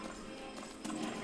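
Horse hooves clip-clop in the video game Skyrim, a quick run of muffled steps over a steady background of game ambience and music, with no talking over it.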